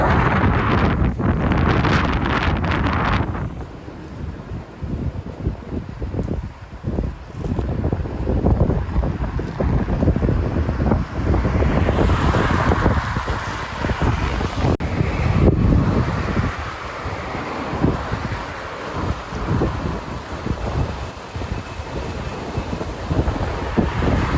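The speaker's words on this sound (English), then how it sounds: "You could really hear the wind whistling out there." Steady, roaring typhoon wind gusts in Okinawa, Japan buffet the microphone throughout, with a broad rushing noise that swells and eases without pause.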